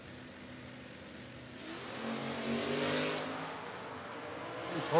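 A 1967 Ford Mustang drag races a box-bodied car, the engines swelling into a loud roar that builds and fades across the track, with no talk over it.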